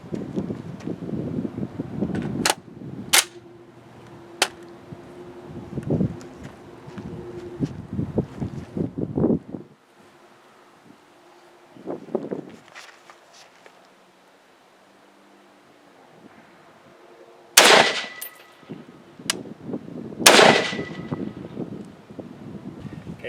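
A Desert Tech MDR rifle fires two rounds offhand outdoors, two sharp, loud reports spaced a few seconds apart near the end, preceded by wind and handling noise.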